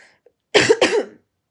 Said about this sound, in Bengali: সরি ঠান্ডা কাশি লাগছে